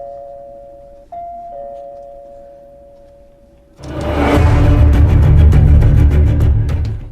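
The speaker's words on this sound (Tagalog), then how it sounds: "Ang doorbell." A doorbell chimes close by with a sustained electronic tone, followed by a loud, bright ringing burst that fills the last few seconds.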